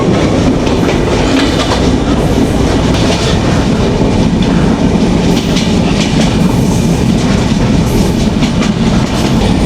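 Running from Faridpur toward Dhaka in the evening, the Benapole Express rumbles loudly from inside the carriage, a continuous heavy roar of wheels and rails with steady rhythmic clatter throughout.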